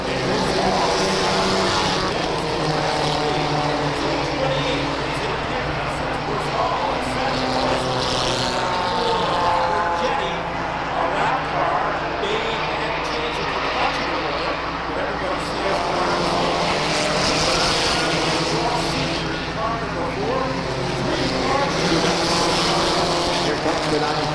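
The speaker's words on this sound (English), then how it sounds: "Leaders off turn 4, down the strike, and there's a stack of them, 6 strong, racing to the top spot." Race cars on the oval at Waterford Speedbowl during a Saturday night feature, a pack of six leaders out of turn 4 with a continuous loud engine roar filling the whole stretch under an announcer's talk.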